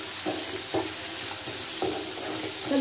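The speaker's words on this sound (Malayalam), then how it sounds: "അതും ചേർത്ത് നല്ലതുപോലെ വഴറ്റിയെടുക്കണം." Pork fry with coconut pieces is sautéed in a pan in Kerala style, giving a steady low sizzle with soft stirring scrapes that come back at intervals.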